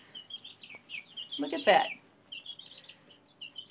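Five-week-old chickens chirp in a steady series of short, high peeps close by, briefly interrupted by a person speaking in the middle.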